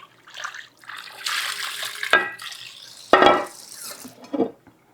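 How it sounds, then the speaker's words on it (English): A pot lid gets rinsed under running kitchen tap water, with splashing bursts, clinks of metal and a sharp clatter near the end, close and moderately quiet. "Let me rinse out my lid to my pot here."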